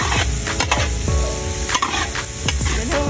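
Onion and garlic sauté in oil, giving a steady close sizzle broken by several sharp clanks and scrapes of a utensil stirring the pan.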